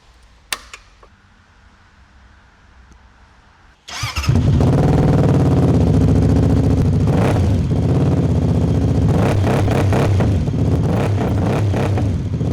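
A Benda Dark Flag 500 V4 motorcycle, fitted with pneumatic suspension, sits quiet apart from a few small clicks, then its engine fires and runs loud and close, revving up and down several times in a deep, throaty roar.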